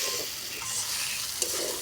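Sago and vegetables are stirred in a hot pan, a brief close sizzle with spoon scraping and a small clink.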